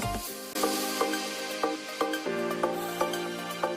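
Whole garam masala, four dried red chillies, cumin seeds and two bay leaves sizzle in hot oil, crackling steadily while a spoon strikes the pan in a regular rhythm of clear taps.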